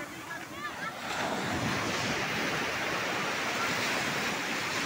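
Ocean waves and wind roll in at Candolim beach in Goa, a steady broad roar of surf and gusting air pressing on the microphone, loud and continuous after a quieter start.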